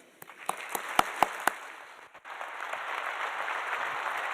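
Audience applause builds into steady, sustained clapping from a large crowd greeting Dr. Calvin Mackie at a University of Minnesota talk to medical engineers, with a few louder claps early before a continuous wash of hands.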